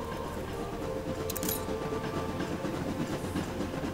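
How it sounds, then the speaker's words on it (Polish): Trains rumble along busy rail lines in the city-building game Anno 1800, a steady low rolling drone with a brief metallic clatter partway through and no talk. "Ale fajna kolejka, to znaczy bardzo dużo pociągów."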